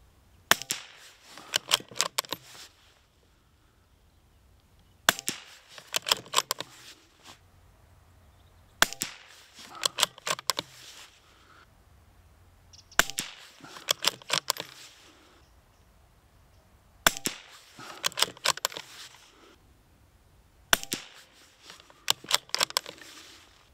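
Repeated bursts of .22 LR shots from a Bergara BMR rifle firing RWS rounds at a range: clusters of sharp, close cracks spaced a few seconds apart, with quiet gaps between each group.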